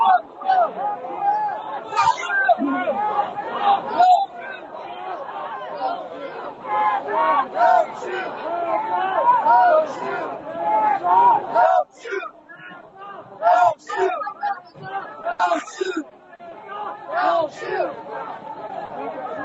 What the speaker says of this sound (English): The crowd is retaking to the streets.